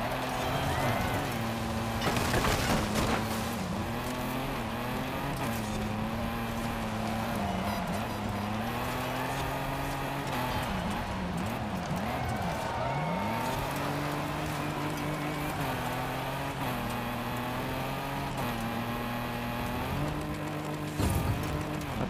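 Engines of GT race cars roar continuously in a Forza Horizon 5 seasonal championship race, rising and falling with gear shifts and braking, loud and close throughout.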